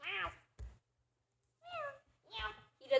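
A cat meows several times in short separate calls, close and fairly faint, with gaps of silence between them.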